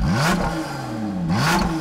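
A Lotus Exige S Roadster's V6 engine revs hard through its exhaust in two rising blips, loud and close with a rasping, whirring note between them.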